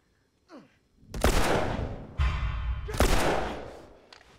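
Gunfire erupts in the post-apocalyptic game The Last of Us: a faint whoosh, then three sharp, loud shots or blasts, each trailing into a decaying rumble, close and without talk.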